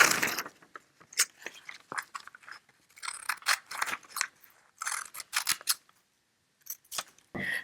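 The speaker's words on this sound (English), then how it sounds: "I would suggest using an old pair of scissors for this" Old scissors snip through T-shirt fabric in a series of sharp, crisp cuts, close up, with short pauses between bursts of snipping.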